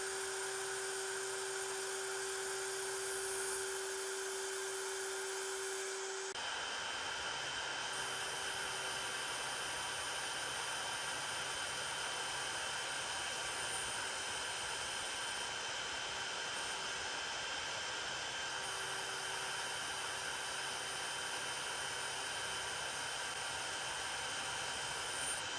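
A Genmitsu PROVerXL 6050 Plus CNC router with 15mm linear rails mills a replacement Y carriage plate at a 300 feed rate and 0.5mm step down, giving a loud, steady high-pitched spindle whine with a shifting cutting tone and no speech.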